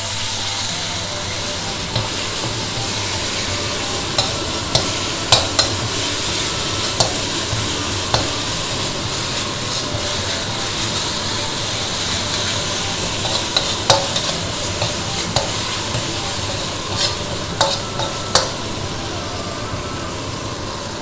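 Curry paste stir-fried in a pan for banana blossom curry with pork belly, a steady loud sizzle with repeated scraping and stirring clicks from the spatula, continuous with no talk.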